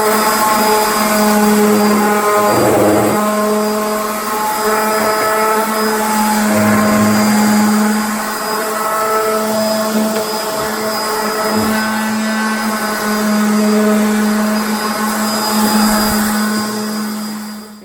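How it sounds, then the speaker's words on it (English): Wooden floating shelf boards being sanded smooth with a power sander, a loud, steady motor whine with a constant hum that runs throughout, close by, with no talking. "it's time to sand everything smooth"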